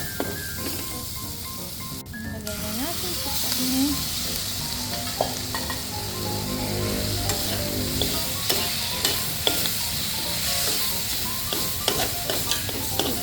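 Beef searing in a very hot pan with a little oil gives a loud, continuous close-up sizzle, spattered with crackles and occasional utensil clicks as the meat is stirred.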